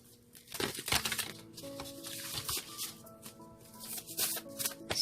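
A deck of tarot cards being shuffled close by, with repeated crisp riffles and papery crinkling rustles in quick bursts, and a soft sustained tone from background music underneath.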